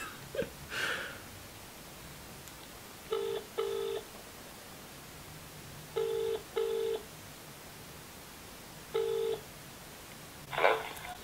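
A telephone keypad sends short touch-tone beeps, in small clusters of one or two with pauses between them, while a call is being placed. A couple of faint, brief rustles also occur.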